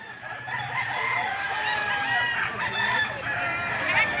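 A Gilmore-line rooster at a livestock auction market crows and clucks amid a busy din of other fowl, close and continuous, with no speech.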